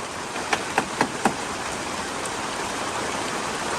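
Rain falls steadily and evenly at a chimney rebuilding site, a continuous hiss with no voices, and a few soft taps early on.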